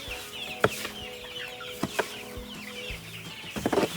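Pradu Hang Dam KKU55 chickens, nearly two months old, cluck on a farm with repeated soft, short calls and a few sharper bursts over a low steady background.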